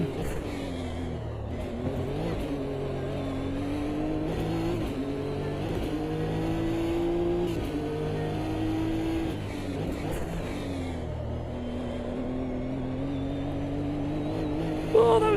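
Race car engines in a sim racing video game drone and rev steadily, pitch rising and falling through gear changes as the car accelerates and brakes, loud and continuous with a brief louder burst at the very end.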